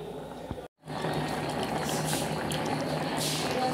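Fresh cashews sitting in hot, boiling water, a steady bubbling and gurgling simmer after a brief silent gap, moderately close.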